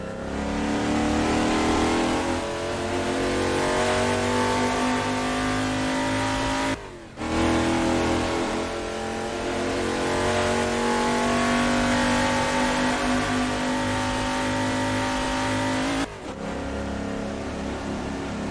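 A 1970 Chevrolet Chevelle SS V8 in the Assetto Corsa racing game revs hard and loud uphill, holding a steady roar with a brief dip near seven seconds and another lift around sixteen, with no talk.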